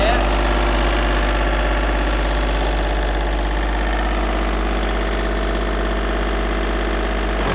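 A John Deere 3036 EN compact tractor engine runs steadily, giving a continuous loud, even drone with vibration throughout. Voices may be faintly audible beneath it.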